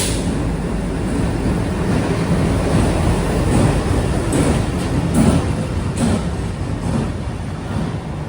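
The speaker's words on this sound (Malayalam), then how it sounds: "ഇതാ നമുക്ക് പോകാനുള്ള ട്രെയിൻ കടന്നു വരികയാണ്." The Tata Nagar Express rolls into platform 1 at the station, a loud, steady rumble with wheel clatter and faint squeals, no voices.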